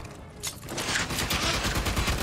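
Enemy gunfire in Aliens: Fireteam Elite, a dense fusillade of rapid shots after a brief lull, continuous and loud, with overlapping bursts from several shooters and no talking.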